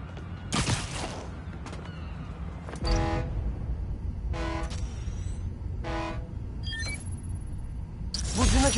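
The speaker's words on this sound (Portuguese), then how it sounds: "Buzina de balsa." A ferry horn in the video game Spider-Man: Miles Morales, sounding several times as brief tonal honks among game ambience and mechanical noise, with louder broadband bursts near the start and end.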